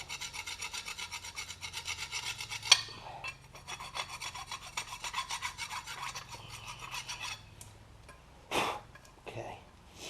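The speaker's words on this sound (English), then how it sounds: "When I file these, I'm not trying to take any metal off. I'm just removing any corrosion that might be on there." Rhythmic rasping strokes of a hand file scrape surface rust off a car's brake caliper brackets, close and moderately loud, with a few brief pauses and scuffs between runs of strokes.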